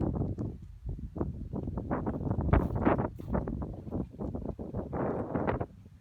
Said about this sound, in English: From this crazy wind.